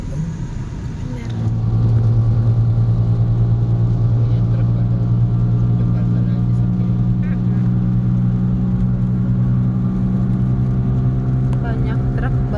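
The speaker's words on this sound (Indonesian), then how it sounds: "Banyak truk, banyak bis." Heavy traffic of trucks and buses rolls past a busy seaside highway rest area, giving a steady, loud, low engine rumble that starts after a quiet second and stays constant.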